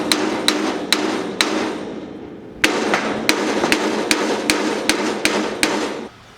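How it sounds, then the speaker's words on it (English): Hammer tapping a trailer wheel hub with sealed ball bearings to knock it off the axle: sharp metallic blows, four in the first second and a half, then a pause, then a steadier run of about nine close, loud strikes. "We should be able to just tap the hub off then."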